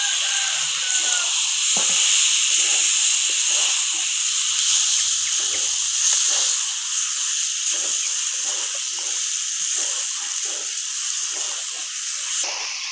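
Marinated mushrooms sizzle in a pan alongside sautéed potato and taro, a steady close hiss of frying running throughout with faint stirring scrapes beneath.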